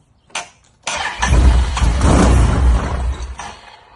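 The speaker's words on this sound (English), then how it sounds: "Заводится, вздыхает." A Can-Am with electrical trouble cranks and catches, then runs rough and loud with a heavy uneven rumble for a few seconds before easing off.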